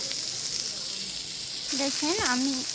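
An egg frying in oil makes a steady hiss and sizzle, and a voice speaks over it near the end.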